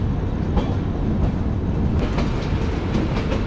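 Passenger train drawn by a powerful electric locomotive rolls along the rails with a continuous low rumble and steady clickety-clack of wheels, heard close from on board.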